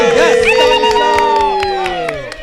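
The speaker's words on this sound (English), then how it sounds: "big round of applause for Halo Alexandria Thomas" A live comedy show audience cheers and whoops with scattered clapping, loud and close, as voices call out over the noise before it tapers off.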